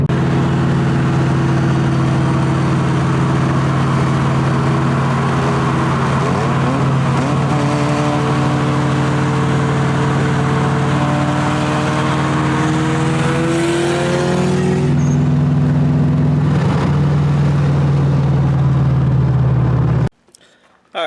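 A Ford 7.3 Powerstroke diesel engine idles loud and close with a steady droning hum, pitch shifting slightly midway before cutting off abruptly near the end.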